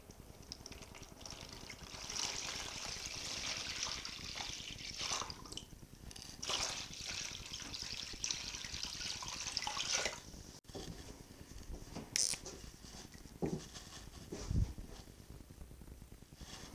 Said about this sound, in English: we'll start filling up our tank here with water